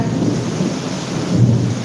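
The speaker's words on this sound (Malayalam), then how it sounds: "അവിടെ നല്ല മഴയുണ്ട് കാറ്റുണ്ട് ഇടിയുണ്ട് ഇടി മിന്നലും ഉണ്ട്" Heavy rain pours steadily in a thick hiss, with a deep rumble of thunder swelling near the end.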